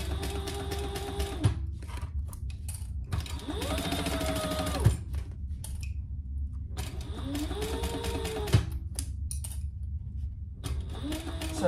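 A Bernina sewing machine stitches in several bursts, its motor whirring up and down with mechanical clatter between short pauses while a zipper is sewn onto fabric for a purse.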